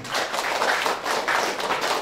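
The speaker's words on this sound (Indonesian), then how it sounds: "Tepuk tangan lagi teman-teman." Applause from the staff audience at a company family gathering for a cake and bakery business, a dense, steady patter of many hands clapping for about two seconds with no talk over it.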